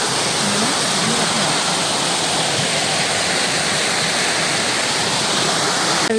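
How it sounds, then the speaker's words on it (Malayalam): Water runs from a garden hose at a house, with weak pressure, giving a loud, steady rushing flow that lasts throughout without speech. "കണ്ടോ ഓസ് ഇട്ടേക്കുന്നത്"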